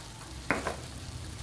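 Spiced gravy sautéing in a pan makes a low, steady sizzle, with two soft scraping stirs near the middle. There is no talking.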